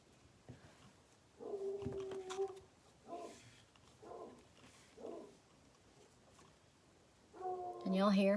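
A dog barks and whines in short bursts at a distance, separated by quiet gaps, with a louder yelp near the end.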